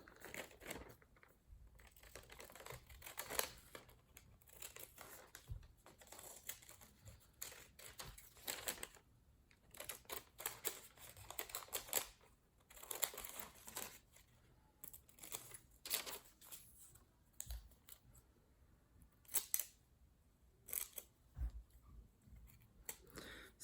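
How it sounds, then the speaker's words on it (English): Scissors snipping out paper shapes for a symmetry design exercise, a run of faint, quick clipped cuts and crinkles in bursts close by, with no talking. "I'm going to cut these out."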